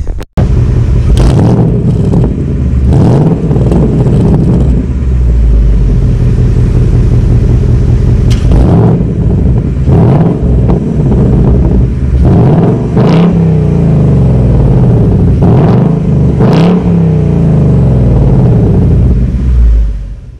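A 2021 Ford Mustang GT Premium's 5.0L V8 is revved hard several times, loud and close, each throttle blip rising sharply over a deep, rumbling idle that continues between the revs.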